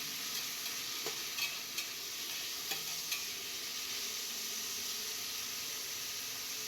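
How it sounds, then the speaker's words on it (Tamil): Onion, tomato, mint and coriander sauté in a pan for a homemade vegetable kurma, giving a steady close sizzle broken by several light spoon scrapes and taps. "தக்காளி சேர்த்து புதினா, கொத்தமல்லி அதையும் சேர்த்து நல்லா வதக்கணும்"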